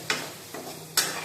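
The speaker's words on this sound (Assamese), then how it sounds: "আপুনি আদা নহৰুটো আলু পিঁয়াজৰ লগত ভাজি ল'ব" Ginger and garlic fry with potato and onion in a pan, giving a soft steady sizzle broken by a few sharp scraping bursts from stirring.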